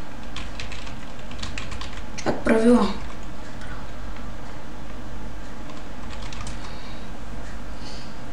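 Soft clicking keystrokes on a computer keyboard during Minecraft PvP server play, faint and scattered across the clip, with a brief spoken phrase in the middle.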